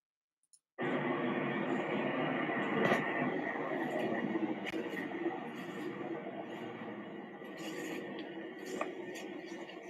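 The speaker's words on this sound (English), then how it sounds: "You will hear the sound of aeroplane" An aeroplane flying near an airport: a sudden, sustained broad roar starts after a short silence and holds steady and loud throughout, with a few faint clinks scattered over it.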